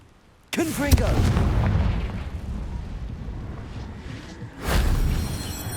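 A blasting-curse spell in Hogwarts Legacy erupts with a loud, booming explosion that rumbles for several seconds, followed by a second blast-like burst near the end; a voice casts spells over it.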